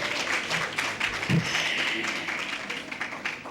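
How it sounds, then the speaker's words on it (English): A university campus audience applauds themselves at a media and communication institute event: steady, fairly faint clapping from a crowd, continuous across the whole stretch with a soft thump near the start. "I think you need to give yourselves a round of applause."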